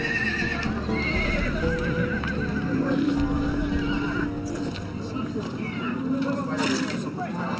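Horses at a busy outdoor horse market, with neighing, hoof clip-clop and general crowd murmur forming a constant dense bed, and voices talking throughout.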